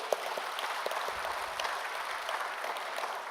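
A church congregation claps steadily, a broad sustained wash of applause without talk, moderately loud and even from start to finish.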